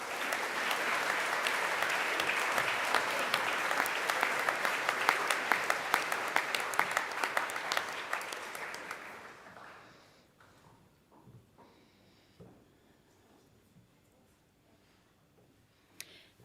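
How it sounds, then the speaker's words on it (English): An awards-ceremony audience gives a sustained round of applause for a school award winner, with the dense clapping loud at first and then fading out, leaving a few scattered claps and quiet room sound. "we'll give her a round of applause"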